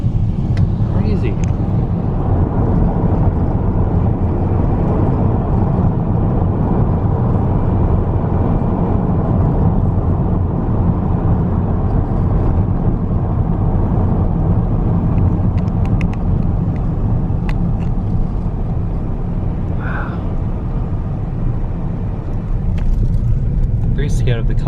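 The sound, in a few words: car driving on a road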